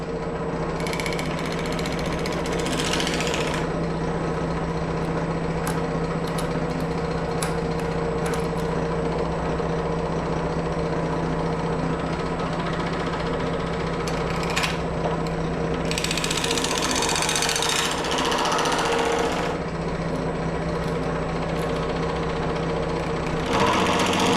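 A sheet metal forming machine runs its dies over a scrap panel while fabricating parts for 1932 three-window doors, giving a continuous mechanical drone with a rapid rattling clatter and a few sharper bursts.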